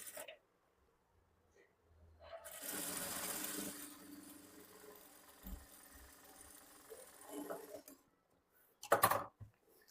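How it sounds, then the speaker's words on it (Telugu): A sewing machine stitching along the folded front part of a blouse, a quiet close whirring run of about two seconds that tapers off, followed by faint handling sounds and a short sharp clatter near the end. "ఇలా ఫోల్డ్ చేసుకొని దీనిపైన మళ్ళీ ఒక స్టిచ్ వేసుకోవాలి"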